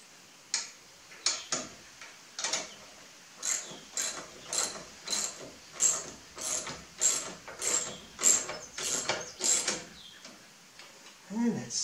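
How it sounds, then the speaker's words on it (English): A ratchet wrench snugs 17 millimeter bolts on a grill guard for a 2016 Ford Explorer, a rapid run of sharp clicking bursts in a steady rhythm, close and clear. "And I'm gonna start snugging the bolts here."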